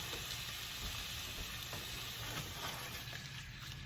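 Meat sizzling in a frying pan as a spatula stirs it, a dense continuous close frying hiss with soft scraping, no talk.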